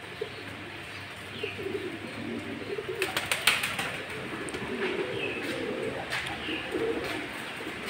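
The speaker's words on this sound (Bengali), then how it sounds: "এই যে এখানে একটা কবুতর বসতেছে" Pigeons at a pigeon farm coo softly and repeatedly over a steady background hum, with a few sharp clicks partway through and no talk.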